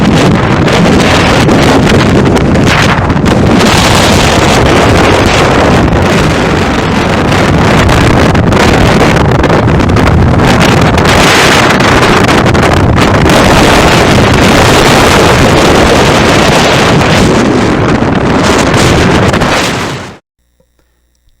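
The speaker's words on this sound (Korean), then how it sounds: "바람이 너무 세차고" Strong gusting wind at Torres del Paine, Chile, beside a small glacial-meltwater waterfall. It pounds the microphone as a loud, continuous roar for about twenty seconds and then cuts off abruptly.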